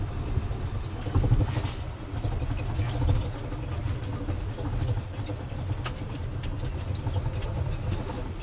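Truck engine in high gear on a farm road, a steady low rumble and drone with road noise running the whole time, no talking.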